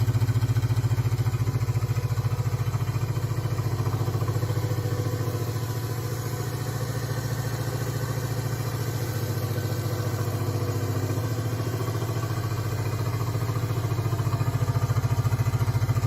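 A Honda CL125 motorcycle engine idles steadily for the whole stretch, a close, loud low thrum with light mechanical clatter and no talking.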